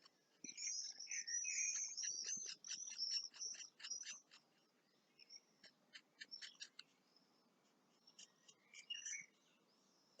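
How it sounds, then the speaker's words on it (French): Small birds sing outdoors during a family barbecue, with rapid repeated high chirps and whistled trills in bursts, moderately close and clear over faint background ambience, with no talking. "Je pense que vous les entendez, les petits oiseaux."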